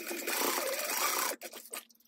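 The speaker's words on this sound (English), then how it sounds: "stitch at a quarter inch seam allowance one more time" A sewing machine runs in one steady burst as it stitches a quarter-inch seam on a lining panel of a fabric pouch, whirring close and loud, then stops and leaves a few soft handling clicks.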